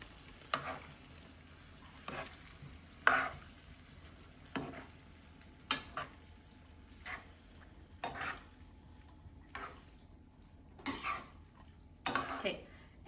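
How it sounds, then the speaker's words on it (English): Tongs toss glass noodles with sauce in a pan, giving irregular clinks and scrapes against metal, about a dozen faint bursts spread across a quiet background with a soft sizzle, no talking. "now I'm going to use my tongs and I want everything to incorporate"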